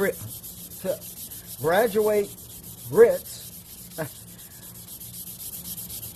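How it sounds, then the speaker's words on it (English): Fine 400-grit sandpaper rubs across the fingerboard and inlays of a Gretsch Super Axe guitar in about five separate close, soft strokes spaced roughly a second apart, with no voices. "So now I take some 400 sandpaper, and we're going to kind of polish this, and it polishes the inlay up as well."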